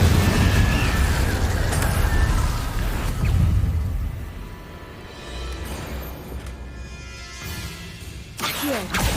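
A fire spell bursts in Hogwarts Legacy with a loud, broad whoosh and boom up front that thins into a lower rumble, then a few quick spell flares flash near the end, all without speech.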